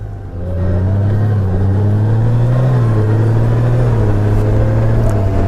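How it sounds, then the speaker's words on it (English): 2020 Honda Goldwing motorcycle engine running under load while shifting gears, a loud, close, steady low rumble whose pitch dips and rises through smooth gear changes. "Now the bike is shifting smoothly"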